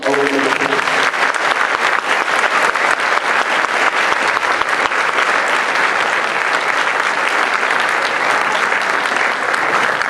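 Large school audience applauding a guest, a sustained, loud and even roar of clapping lasting ten seconds, with a few voices faintly beneath it at the start.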